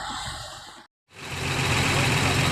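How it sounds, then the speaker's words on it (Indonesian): A Mercedes 1521 bus with Adi Putro coachwork idles with a close, rough, steady rumble that cuts out for a moment and then returns a little louder. "kalau dengar dari mesinnya ini Mercedes 1521 karoserinya Adi Putro"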